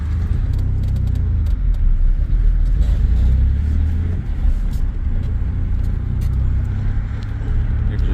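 A 1996 Chevrolet S10 pickup with a 4.3 engine and Holley Sniper fuel injection runs under heavy throttle, a loud, close, steady low rumble and drone that holds for the whole stretch with a brief dip midway.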